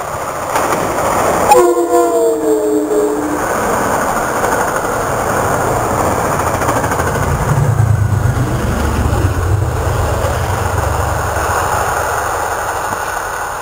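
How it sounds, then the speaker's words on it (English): Amtrak train led by a GE Genesis locomotive passing Riverdale station, a loud horn blast near the start, then a continuous close rumble and clatter of cars rolling by. "Oh sweet, Amtrak right behind us."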